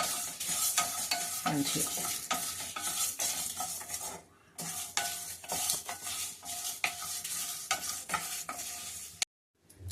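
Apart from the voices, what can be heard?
dry roasting spices in a pan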